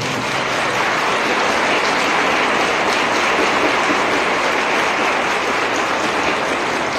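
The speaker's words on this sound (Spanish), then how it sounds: "Muchas gracias y un aplauso para el padre Stalin y para todos sus ustedes" A large church congregation applauds continuously during Mass, a dense, steady clatter of clapping that holds at full strength throughout.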